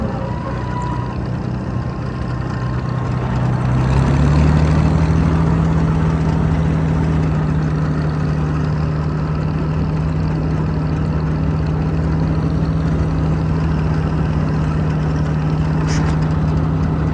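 Old Massey Harris 92 combine engine running as the machine drives off, a loud continuous low drone that rises in pitch and holds steady throughout, with no talk over it.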